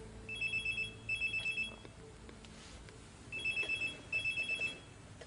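Mobile phone ringing nearby in two bursts of a repeating electronic ring pattern, moderately loud over a quiet room.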